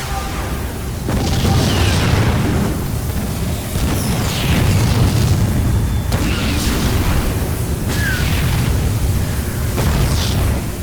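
Repeated explosions boom and rumble as Protoss forces destroy a colony base in StarCraft 2, heavy blasts rolling back to back and loud throughout with no pauses.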